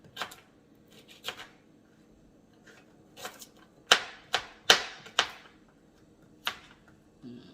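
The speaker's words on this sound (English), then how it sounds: "Chop the ginger." Ginger being chopped on a board with a knife, a series of sharp, close, dry cuts in an uneven rhythm, several in quick succession mid-way, with no talking.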